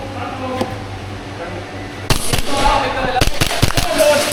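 RWA Nighthawk 2011 airsoft pistol being fired: after a quiet stretch, a burst of sharp, close cracks arrives in an irregular run of several shots over steady background hiss.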